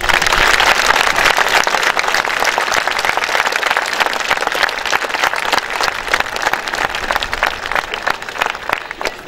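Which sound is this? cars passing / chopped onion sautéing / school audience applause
school audience applause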